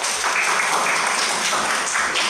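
Classroom audience applauding during a school performance assessment as one student group finishes its presentation, a steady dense patter of clapping lasting a couple of seconds with no talk over it.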